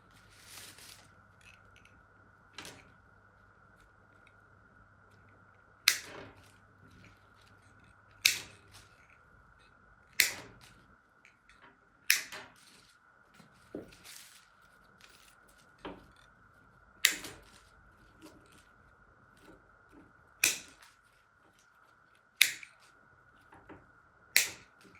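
Sharp snips of scissors cutting spring wreath foliage into sections, about a dozen crisp clicks spaced a second or two apart over a quiet background with a faint steady hum.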